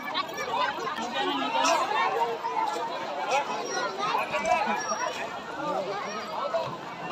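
Bustling crowd at a Hanuman temple fair with a tractor procession, a dense babble of many voices close around, rising and falling steadily with scattered clatter.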